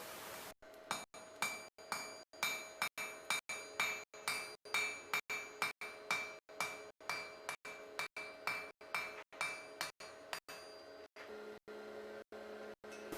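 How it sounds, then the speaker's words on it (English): Steady rhythmic hammer blows forging a small steel knife blade stood on its spine, a long run of about thirty ringing, clinking strikes at a quick even pace, close and clear with no talk. "I stand the blade onto its spine and forge down"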